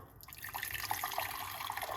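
Hot water poured into a medium pot for pineapple peel tea, a faint, continuous splashing and trickling stream with small bubbly droplets, steady and moderately close for the whole moment.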